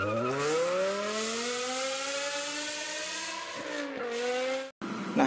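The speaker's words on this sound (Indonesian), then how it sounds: "knalpot standar NMAX itu suaranya terlalu flat" A Yamaha NMAX scooter with stock exhaust: a steady, smooth engine drone with a slowly rising pitch, holding loud for about five seconds before cutting out abruptly, then a brief burst of noise.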